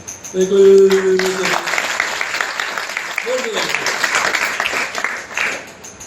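Audience clapping at a Bhagavad-gita lecture, a sustained wash of applause that runs under a brief tonal sound near the start and a short spoken phrase partway through.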